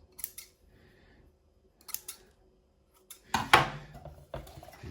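Scissors snip away excess material while shaping a DIY lantern tarantula enclosure: a few short, sharp cutting clicks spaced apart, then a louder burst of crisp snipping and rustling near the end.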